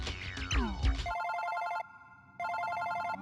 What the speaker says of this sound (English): Oh, wait, that is my phone.